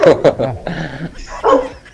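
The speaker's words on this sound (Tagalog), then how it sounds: "Ingay ng aso." A dog barks in short, sharp bursts near the start and again later, mixed in with people talking close by.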